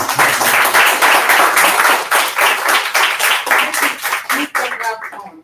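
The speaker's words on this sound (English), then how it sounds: "We will clap offline." In-person audience at a Flutter London and GDG London meetup clapping together, a dense burst of hand claps close by that holds for several seconds, with a voice heard over it.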